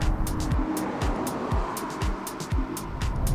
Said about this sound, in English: The tread creates a high-pitched whirring sound